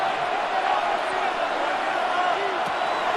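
Steady, dense roar of a stadium crowd in the Madden NFL 26 football game, Patriots versus Broncos, swelling evenly through third-down play with no voices standing out.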